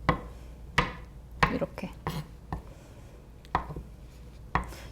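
A knife chops avocado into bite-size pieces on a board: about eight crisp, close chops at an irregular pace, with quiet pauses between them and one brief spoken word.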